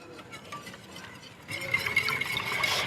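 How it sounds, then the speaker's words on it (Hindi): Half a cup of water being mixed into wheat flour batter, with a soft wet stirring and sloshing that starts quietly and grows steadier and louder in the second half, heard alone without talk. "गंदम का आटा डालने के बाद हम इसमें डालेंगे हाफ़ कप पानी और इसको हमने अच्छी तरह से मिक्स कर लेना है।"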